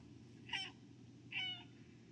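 A cat in the video game Stray gives two short, clear meows about a second apart. Both are fairly soft, with no one talking over them.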